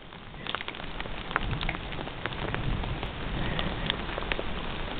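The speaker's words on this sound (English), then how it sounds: "Okay, it's hailing." Hail falls in Yosemite, a dense steady patter of small stones striking surfaces close by, with sharper individual clicks scattered throughout the continuous rattle.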